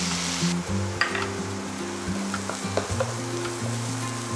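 Sizzling chopped onions in a kadhai as coriander powder is stirred in for restaurant-style kadhai paneer: a constant close frying hiss with a few soft utensil scrapes against the pan, while background music plays underneath and nobody speaks.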